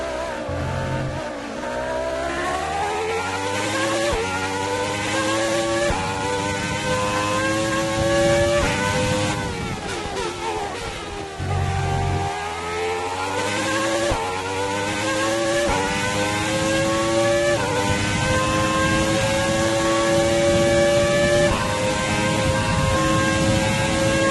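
A Formula 1 car engine in a racing video game, done in a mid-90s style, holds a steady high whine with rising and falling pitch through gear changes and throttle lifts, loud and continuous with no talk over it.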